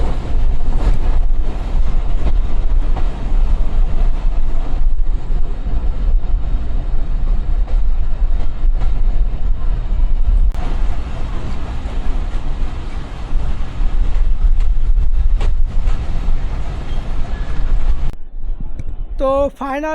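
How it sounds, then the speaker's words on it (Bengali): A passenger train arriving at Benapole station near the border, a loud, continuous low rumble and rattle of the carriages for nearly twenty seconds before cutting off, with a voice talking over it. "আমাদের ট্রেনটা বিকাল চারটার দিকে বেনাপোলে এসে পৌঁছেছে"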